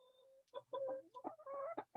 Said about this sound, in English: let's see some chickens